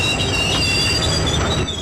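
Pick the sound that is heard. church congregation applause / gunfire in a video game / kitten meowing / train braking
train braking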